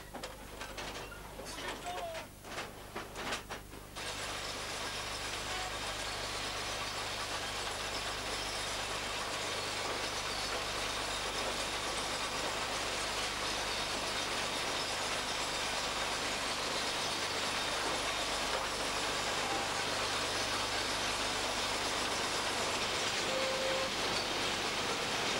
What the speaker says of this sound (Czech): Zadní část stroje už pojíždí po nové koleji